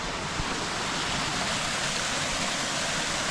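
Water falling at a canal lock gate on a towpath in New Hope, Pennsylvania, a steady broadband rush heard continuously from moderate distance without speech.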